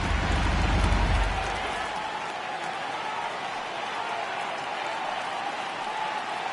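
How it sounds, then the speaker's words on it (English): A baseball stadium crowd in MLB 18 The Show roars on a full 3-2 count, a steady dense wash of cheering that swells at the start and then holds evenly. "Crowd gets up for the 3-2."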